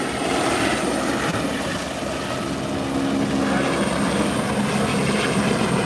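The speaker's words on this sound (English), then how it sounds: "we have the helicopter just above" A helicopter hovers overhead with a continuous, loud rotor and engine drone that holds steady throughout, with no other sound standing out.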